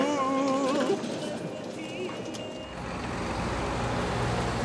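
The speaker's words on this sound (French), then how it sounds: "Un peu plus loin, le balai des camions." Trucks manoeuvre in a hypermarket loading area. Diesel engines rumble steadily, and tonal reversing beeps sound briefly near the start.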